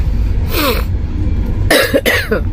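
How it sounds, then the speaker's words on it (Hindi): A woman coughs in two bursts, first a single cough and then a closer, harsher double cough, loud and near against a low background hum. "खांसी भी हो गई है।"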